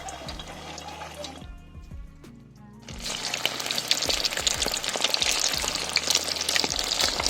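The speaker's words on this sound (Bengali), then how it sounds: "মাংসগুলোকে একটু লাল লাল করে ভেজে নিতে হবে" Marinated chicken pieces fry in oil in a wok for chili chicken, a sizzle that quiets briefly before surging into a loud, bright, crackling hiss with spattering pops.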